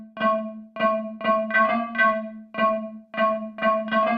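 A bright, buzzy iSynth synthesizer on its square candy setting plays a bouncy sequence of short repeated notes, clean and alone, with a hollow square-wave tone.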